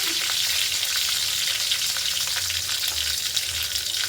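Curry leaves and green chillies fry in a hot pan, giving a loud, continuous crackling sizzle with occasional stirring, no voices.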